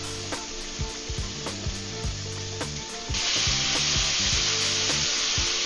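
Philly cheesesteak steak goes into a hot pan after the heat is lowered: a soft background sizzle with scattered taps jumps to a loud, steady hiss partway through, with no talk.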